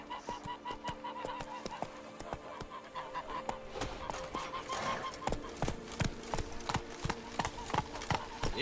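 Hooves of Geralt's horse Roach in The Witcher 3: Wild Hunt, a steady, evenly paced clip-clop on a hard surface at moderate distance, with goose-like honking and faint voices in the background.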